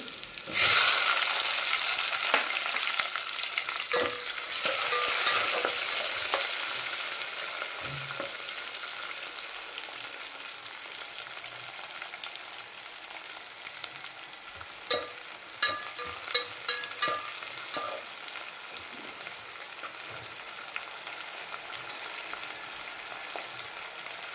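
Garlic and onion fry in hot oil in a pan for a Tamil Nadu bottle gourd sambar, a continuous crackling sizzle loudest at first, with occasional spatula scrapes and stirring taps and no talking.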